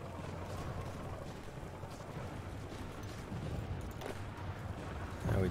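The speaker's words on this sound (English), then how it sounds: "More explosions all the time." Explosions and artillery fire in the strategy game Hearts of Iron IV, a quiet rumbling layer of distant blasts and booms under ambient game sound, with a louder burst near the end.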